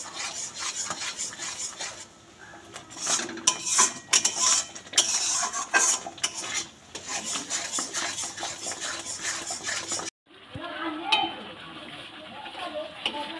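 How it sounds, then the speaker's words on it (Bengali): Cooked mango for mango barfi being stirred and scraped in a pan with a spoon, a run of rasping, rubbing strokes that stop briefly before a quieter stretch, with a voice talking over it. "দশ থেকে 15 মিনিট আমটাকে এভাবে নেড়ে"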